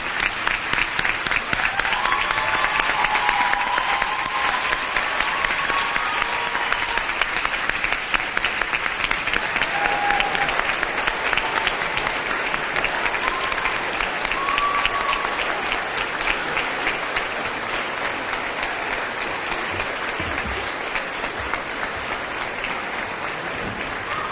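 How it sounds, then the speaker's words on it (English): Sustained audience applause fills a graduation ceremony hall for an 8th grade class, steady and dense throughout, with faint voices and cheers mixed in. "let's stand up and give Ann Totis a round of applause."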